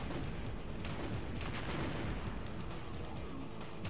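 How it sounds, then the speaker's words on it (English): A warehouse is demolished in the video game Blast Corps with a steady, low, rumbling crash of collapsing rubble and scattered cracks, fairly faint and continuous throughout. "The warehouses are really easy to destroy."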